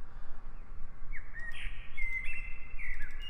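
A bird in the Kirigami video game chirps in several short, bright calls over a steady rushing ambient background, fairly close and with no speech.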